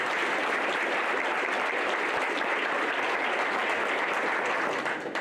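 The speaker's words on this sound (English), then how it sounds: "Let's give him a round of applause." Audience applause at a county school board meeting honoring a principal and student athletes, even sustained clapping from a roomful of people, fairly quiet and unbroken.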